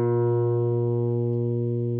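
A steady reference tone from an electronic guitar tuner sounds alone, an unbroken buzzy pitch rich in harmonics that holds at an even volume and tapers only slightly over two seconds.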